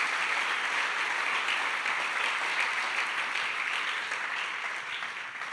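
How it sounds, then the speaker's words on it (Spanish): A church congregation claps in loud, sustained, dense applause that continues unbroken throughout and eases slightly at the end. "Si lo crees, dale un aplauso, el más fuerte de la tarde en esta hora"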